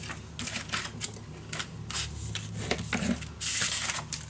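Scored cardstock is folded and creased for a handmade mini album, heard as close, repeated dry rubbing and scraping strokes of paper being pressed flat, with a brighter rasp near the end.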